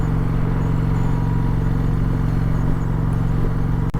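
An Indian Roadmaster motorcycle cruises at about 2,500 RPM on the highway, its engine a loud, steady, low throbbing rumble heard up close without pause.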